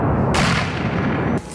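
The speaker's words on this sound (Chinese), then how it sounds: "在树丛里发射迫击炮导弹、无人机轰炸。" Mortar fire from Ukrainian troops in bushland near Kyiv, heard as a loud, close, booming blast that carries on through a broad roar, with a second burst starting just before the end.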